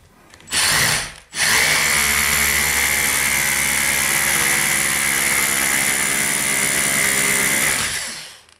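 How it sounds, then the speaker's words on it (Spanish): A hammer drill in percussion mode with a 6 mm concrete bit bores into a concrete ceiling in one long, loud, steady run after a brief start and pause, its whine and rattle close and continuous. "ya tengo el taladro listo en la función de percusión, broca para hormigón de 6 milímetros"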